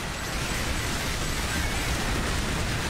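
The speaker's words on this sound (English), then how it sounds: "all those explosions are me" Constant loud barrage of overlapping explosions and blasts from the video game Earth Defense Force 5, a dense rumbling wall of booms with no pauses and no talking.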